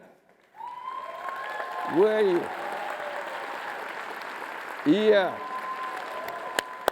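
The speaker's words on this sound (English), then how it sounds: "Let's give a big applause for her." Audience applause for a woman standing up at a lecture on eradicating poverty. Steady, moderately loud clapping begins after a brief quiet moment and runs on, while a voice speaks briefly over it twice.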